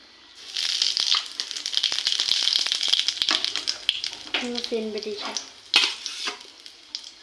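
Dried red chilies and bay leaves hit hot oil and crackle into a bright, spitting sizzle with sharp pops, close and loud, while a spoon scrapes and stirs the pan and a voice talks briefly partway through.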